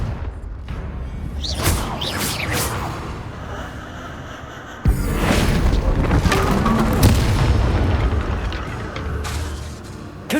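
Spell explosions from Confringo and Bombarda casting in the video game Hogwarts Legacy, with deep booming blasts and rumbling debris, one big hit midway, then a loud continuous rumble of effects.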